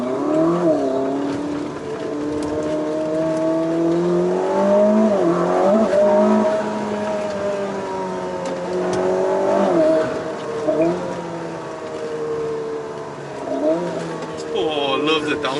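Ferrari SF90 Stradale engine revving hard with rising and falling pitch and repeated downshift blips on the road, loud and close, with people talking over it.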